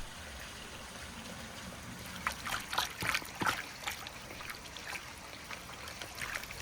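Water poured into a dough mixture and stirred for homemade pizza dough, soft trickling and sloshing that swells in the middle of the clip, close by and fairly quiet, with no talking.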